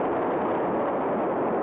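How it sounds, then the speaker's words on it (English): A large nighttime explosion and fireball roars as a continuous, dense, broadband rumble, loud and unbroken throughout with no voices. "The explosion sent plumes of fire soaring into the night sky"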